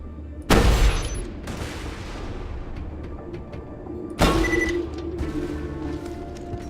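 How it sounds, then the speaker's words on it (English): A rocket launcher fires in Borderlands 2, with two heavy, booming launches a few seconds apart, each trailing off into rumbling explosions and ambient game noise. "Watch how fast these rockets will go."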